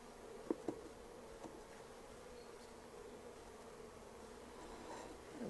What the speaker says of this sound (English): Got lots of bees.